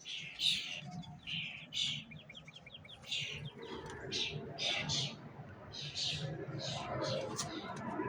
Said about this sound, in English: Blackbirds.